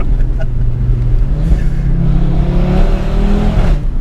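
A 2018 Audi RS3 with 510 bhp accelerates hard, its engine note rising loudly and steadily as heard from inside the car, with no speech.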